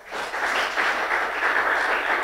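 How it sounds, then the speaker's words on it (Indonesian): A church congregation at a Sunday celebration service breaks into steady, even applause that rises quickly and holds as a dense wash of clapping, with no speech over it. "Beri tepuk tangan buat Tuhan Yesus."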